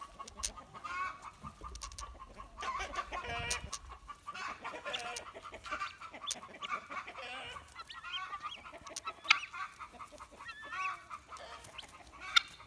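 Barred Rock chickens cluck in a busy yard, joined by other fowl such as guineas and a rooster, a steady overlapping chorus of short calls and squawks at close to moderate distance.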